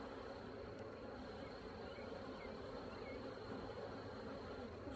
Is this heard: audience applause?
no